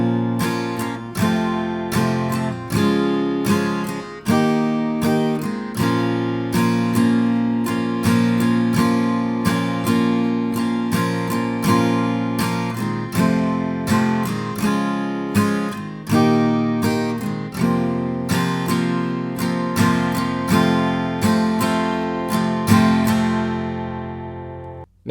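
An acoustic guitar strums the easy chorus chords of a song in a long strumming pattern, with steady rhythmic strokes and chord changes that play alone and close, ending on a ringing final strum.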